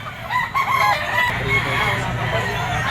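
Young roosters (stags) crow at a busy pet market in the Philippines, one bird calling out close by over steady crowd noise and murmured talk.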